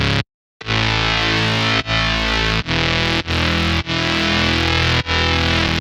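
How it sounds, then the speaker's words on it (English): A loud, gritty distorted synth bass built from two default wavetables with distortion and EQ, playing sustained chopped notes, cutting off briefly between phrases, with a dense buzzing tone and no voices. "The mid bass is just two basic default wavetables."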